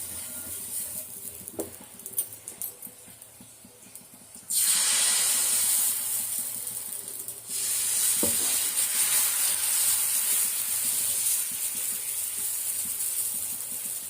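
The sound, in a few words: masala dosa batter sizzling on a hot tawa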